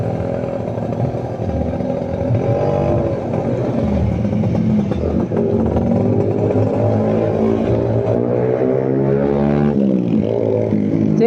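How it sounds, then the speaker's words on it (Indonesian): A 1996 Yamaha Alfa QII two-stroke motorcycle on a test ride, its engine buzzing loud and close throughout, revving up and down with a raspy, ringing exhaust drone. "hari ini kita tes riding Yamaha Alfa yang sebelumnya sudah direview"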